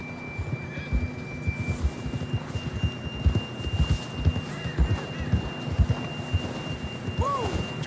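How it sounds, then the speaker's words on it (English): Galloping horse in the video game Red Dead Redemption 2, its hooves thudding in a steady, rapid rhythm under a rainy, stormy ambience, fairly close and moderately loud throughout. "John was riding that horse when we left Blackwater."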